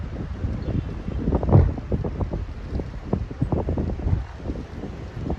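Wind outdoors at a clay target throwing session: continuous rough buffeting wind noise on the microphone with irregular low gusts and thumps, no talk.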